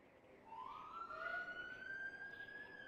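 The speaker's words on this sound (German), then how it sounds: "Man hört es aus der Ferne. Sirenengeschaller." A single emergency vehicle siren from an online role-play video game, sounding faint and far off as a rising, sustained wail with no talk over it.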